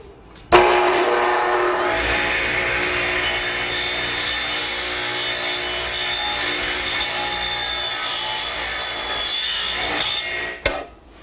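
A radial arm saw tilted to 22.5 degrees and swung to 33 degrees cuts an angled end on a wooden gazebo collar tie, a steady loud whine running about ten seconds between a sharp start and a clunking stop.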